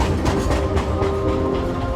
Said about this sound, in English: we're going to crash that train